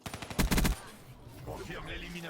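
Rapid automatic gunfire in the video game Black Ops 3, a short loud burst of shots up close, then quieter game noise with a voice talking over it.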